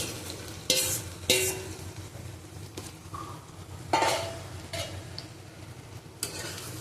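Okra sizzles in a pan for an okra-potato curry with prawns, broken by several sharp, close scrapes and clanks of a spatula stirring against the metal.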